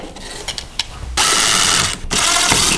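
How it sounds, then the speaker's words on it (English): A ratcheting whir from an insulated 2-in-1 Phillips/flathead screwdriver driving a screw into a wall outlet, with a few quiet clicks followed by two loud, sustained bursts of mechanical buzzing. "I'm going to be using my insulated screwdriver, my 2-in-1 Phillips or flathead."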